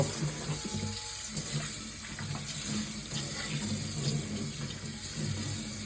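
Tap water runs steadily into a sink to soak a cast iron pan, a continuous splashing stream at close range with no talk.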